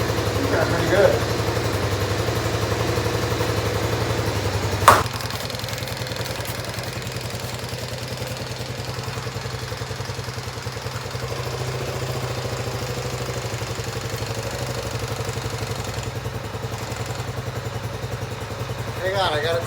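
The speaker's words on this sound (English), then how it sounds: "Let's let the engine warm up a little bit." A Yamaha Raptor 80 ATV engine idles steadily while warming up, a continuous low mechanical hum with faint clatter, broken by a brief sharp knock near the middle and light background noise.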